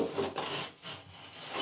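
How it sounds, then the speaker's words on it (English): Utility knife cutting drywall tape at the corners during demolition, a faint, close rasping scrape in short strokes with a brief pause between them. "Belinda is cutting the tape at the corners"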